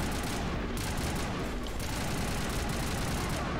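An assault rifle in Mass Effect fires in a dense, continuous stream of rapid shots, loud and close, with game noise mixed in.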